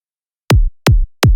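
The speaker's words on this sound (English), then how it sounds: "And now we have a clean kick drum." Three clean UK hardcore electronic kick drum hits in steady succession, each a quick attack dropping into a deep, booming low tail.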